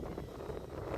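Strong wind buffets the microphone during spring bass fishing near a boat on the water, a loud, steady rushing roar with no voices.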